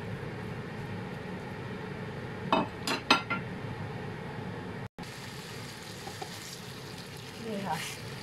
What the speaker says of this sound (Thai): พอกระทะเริ่มเดือดเราก็เอาหมูไปผัดเลยค่ะ